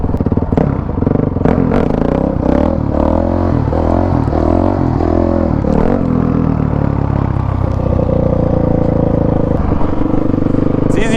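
A stock-sprocketed dirt bike engine pulls at low RPM during slow wheelies on a closed course, a loud, close, rough chugging with clattering, rising and falling throttle surges and no pause.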